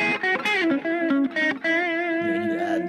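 An electric guitar with distortion plays an open-string repeat lick in E, walking up the scale with clear, sustained notes in a quick, steady run, loud and alone.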